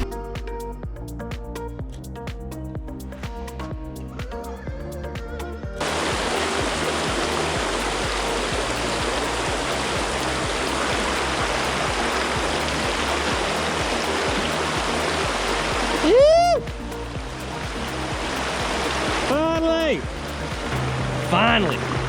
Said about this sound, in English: River is right there.